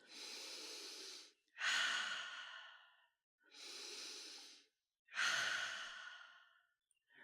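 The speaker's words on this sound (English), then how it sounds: "Take a deep breath in through your nose and out through your mouth." Slow guided breathing, alternating a softer nasal inhale with a stronger, airy exhale through the mouth, two full breath cycles close to the microphone with silent gaps between them and no talking.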